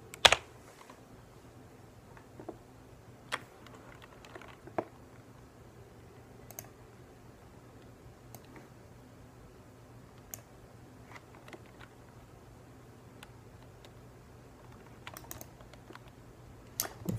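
Computer keyboard typing, quiet scattered keystrokes and clicks at an uneven pace over a low steady hum, with no talking.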